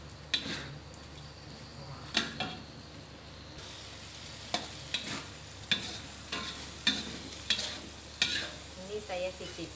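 Potatoes with coriander, cooked with petai, stir-fry in a pan under a soft continuous sizzle, with about ten sharp spatula scrapes and knocks against the pan at irregular intervals.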